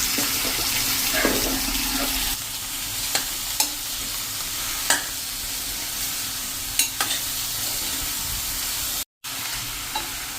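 A spoon or spatula stirs sponge gourd sabji in a pan, with sharp scraping knocks at irregular intervals over a soft, steady background hiss.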